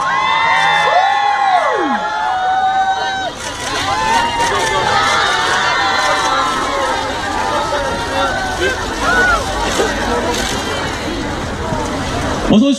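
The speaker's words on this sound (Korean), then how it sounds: "큰 함성." A crowd at the KBS Drama Awards red carpet cheers loudly, with high-pitched screams, shouts and clapping mixed into a constant roar of chatter.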